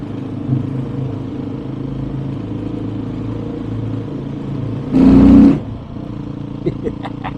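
A 2021 Beta 500 RRS 480 cc dirt bike engine idles with a steady low rumble, then briefly revs hard in one loud burst before settling back to idle, with a few light clicks afterward.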